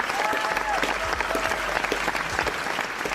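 A small group claps for about three seconds, a busy, close patter of hands that stays steady throughout with a faint murmur beneath it.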